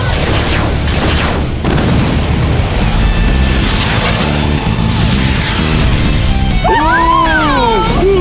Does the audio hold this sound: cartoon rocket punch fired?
yes